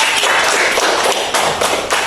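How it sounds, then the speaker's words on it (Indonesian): Students in a classroom applaud together, a loud, close burst of overlapping hand claps that keeps going for the whole stretch, with no voices. "Beri tepuk tangan."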